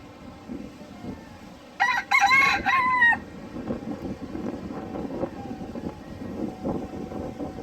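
A rooster crows once, loud and close, over a murmur of clucking hens and low outdoor background noise.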